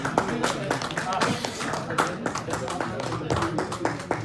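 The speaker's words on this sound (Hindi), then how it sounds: "तालियां बजती रहनी चाहिए" An audience at a farmers' knowledge competition claps in sharp, uneven bursts, with people talking over and between the claps.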